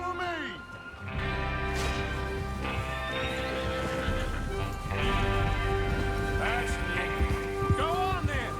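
Horses in the Red Dead Redemption 2 video game whinny and neigh several times over clip-clopping hooves, with a group riding out together amid steady background ambience.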